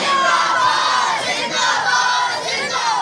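A large crowd at a religious gathering in Gujar Khan chants a slogan together, a loud, sustained wall of massed voices rising and falling in rhythm.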